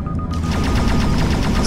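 A rapid burst of repeated spaceship cannon shots in the PlayStation VR game End Space fires in quick succession, loud and close, over a deep rumbling background.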